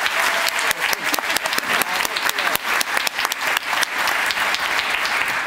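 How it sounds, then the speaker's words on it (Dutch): An audience at a national science quiz show breaks into dense, sustained applause for the jury, a steady wash of many hands clapping with sharper individual claps standing out. "Een applaus voor de jury."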